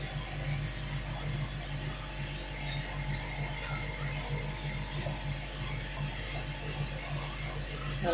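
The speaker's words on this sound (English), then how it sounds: "My aircon's so noisy, I can't hear myself." A noisy air conditioner runs with a steady mechanical drone and a continuous rattling, ratchet-like clatter that holds at an even level throughout, with no voices.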